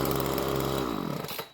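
A cheap Craftsman gas weed whacker's small two-stroke engine runs close by with a buzzing drone, then winds down and sputters toward idle over about a second and a half.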